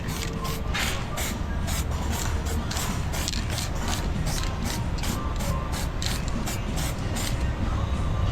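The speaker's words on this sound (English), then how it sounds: "Now I'm gonna put the adhesion promoter and spray primer." Rapid, rhythmic hissing bursts of spray primer from an aerosol can repeat steadily over a constant background noise in a shop.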